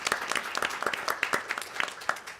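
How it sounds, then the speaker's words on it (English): Audience at an antitrust and competition conference applauds steadily, a dense wash of many hands clapping at moderate volume with no talk over it. "So a big round of applause to everyone who's here"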